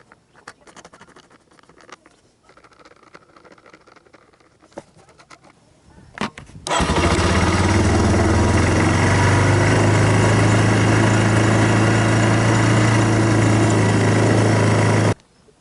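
After several seconds of quiet shuffling and small clicks, a 2002 Yamaha Bear Tracker ATV engine catches abruptly and settles into a loud, steady, close-up idle that runs unbroken for about nine seconds before cutting off.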